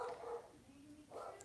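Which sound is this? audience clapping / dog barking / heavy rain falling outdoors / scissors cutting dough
dog barking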